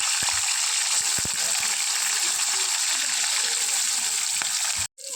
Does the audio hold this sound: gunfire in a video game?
no